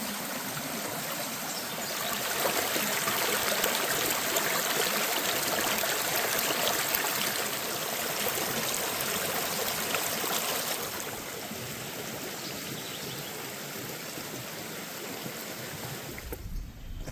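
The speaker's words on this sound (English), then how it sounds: "Still got runoff coming through here." Runoff water rushes steadily through a full stream beside the Straight River, a constant broadband wash of flowing water heard close and moderately loud, with no voices.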